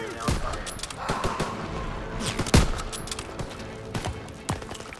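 Machine gun fire during a D-Day battle in Call of Duty: WW2: repeated loud gunshots and bursts over several seconds amid battle noise, with shouting voices in the mix.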